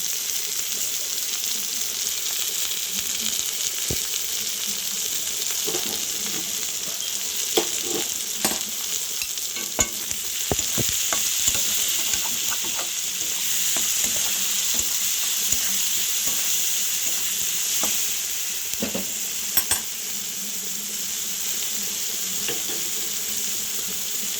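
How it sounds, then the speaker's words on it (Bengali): Kochur loti (taro stolons) cooking with prawns in a pan, stirred with a utensil: a steady bright sizzle of frying throughout, with scattered scraping and clacking stir sounds, close and continuous with no talk. "নাড়াচাড়া করে নিচ্ছি।"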